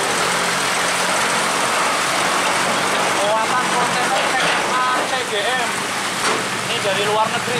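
Constant hiss of heavy rain on a surface at night, with a truck engine humming beneath and people talking over it.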